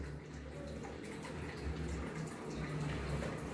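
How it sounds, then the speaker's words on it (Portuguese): Running water splashing steadily as croton plant roots are rinsed by hand, a continuous close wash with small fluctuations and no voices. "Lavando todas as raízes."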